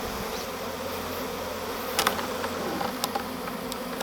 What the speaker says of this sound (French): on va essayer de mettre un maximum d'abeilles là-dedans déjà